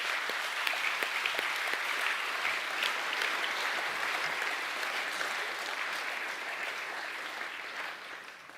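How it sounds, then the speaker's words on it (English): Sustained applause from an audience at a school co-curricular awards ceremony, honouring school staff; dense, even clapping from a large crowd that holds steady for several seconds and slowly tapers off. "could we please acknowledge them with a round of applause?"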